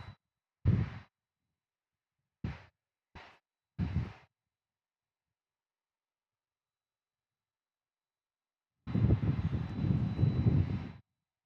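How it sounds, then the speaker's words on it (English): A FedEx Boeing 767 taxis at San Diego airport, its engines giving a few short rumbling bursts and then a steadier, louder roar lasting a couple of seconds, with no one talking. "I do see that other FedEx 767 taxiing towards us."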